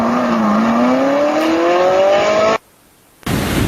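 A car engine revs up in a smooth climbing whine for a couple of seconds, then cuts to near silence before another burst of broad noise returns at the end.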